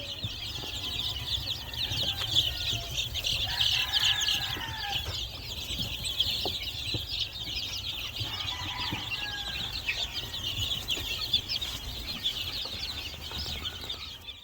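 A flock of game fowl and asil cross chickens clucks continuously in a poultry pen, with overlapping calls and occasional wing flaps against steady, busy farm ambience.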